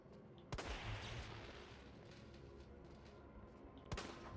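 Two sharp, punchy gunshots ring out in Resident Evil 3 Remake, about three and a half seconds apart, over a low background of game ambience.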